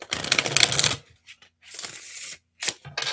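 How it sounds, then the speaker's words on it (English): Bendable oracle cards being shuffled by hand in quick riffling bursts, a sharp rattling flutter followed by shorter papery shuffles and flicks, close and alone with no talk. "That was a clean shuffle."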